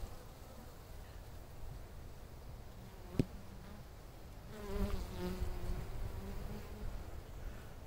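Honeybees buzzing in an open hive in late December, a soft, steady close hum with a sharp click partway through and a fuller, louder swell of buzzing afterward.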